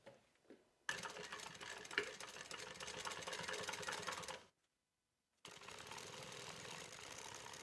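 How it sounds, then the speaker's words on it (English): A sewing machine stitching a tablet sleeve into a crossbody bag, running as a quiet, fast, steady rattle, pausing completely for about a second, then resuming at the same even pace. "Go ahead and stitch."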